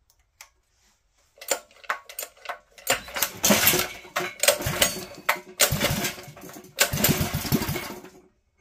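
A Predator 212cc small gas engine with its governor removed sputters through short cranking bursts, then catches and runs unevenly at idle, loud and close with pulsing surges.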